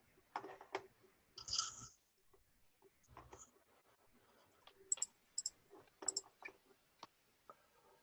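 A computer mouse clicks on a link: a handful of sharp, quiet clicks come in scattered single and paired taps over near silence, with a soft breath or two between them.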